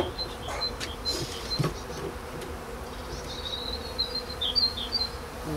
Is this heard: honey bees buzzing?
yes